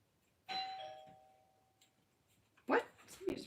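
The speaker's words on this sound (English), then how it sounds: "Somebody just rang my doorbell." A home doorbell chimes once with a clear ringing tone that fades slowly. A dog barks shortly after, and there is faint movement noise indoors.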